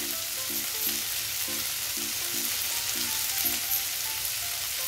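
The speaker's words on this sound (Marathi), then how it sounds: "कांदा लसूण मसाला घातलेला आहे, परतून घेऊया" Onion-garlic masala sautés in a pan for masoor pulao, a steady close sizzle and hiss, with a rhythmic series of short beeping tones sounding over the frying.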